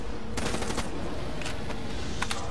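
HVK assault rifle firing in Call of Duty Zombies (Der Eisendrache), with short rapid bursts of automatic gunfire separated by brief pauses, loud over steady game background noise.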